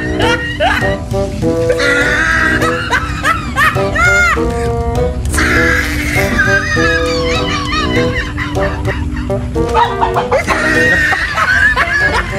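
A native chicken, tethered yet slipping loose, squawks and clucks loudly and repeatedly while being chased, its harsh cries coming in close, agitated bursts with scuffling noise between them.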